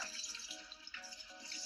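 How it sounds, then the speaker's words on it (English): Cold tap water runs steadily over rice being rinsed in a sink, a continuous broadband splashing rush lasting under two seconds with no voices. "So what I'm gonna do now is just rinse off the dust and the starch."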